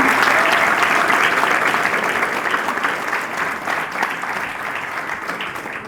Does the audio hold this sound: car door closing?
no